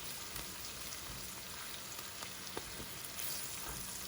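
Onions with curry powder cook in a pan with a faint, steady sizzle and a few soft stirring clicks, quiet and close, with no talk.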